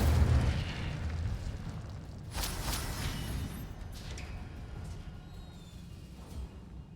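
The Incendio fire spell is cast in a Harry Potter video game: a rough, rumbling burst of flame with crackling, explosive flares that swell early and then settle into a lower, steady roar.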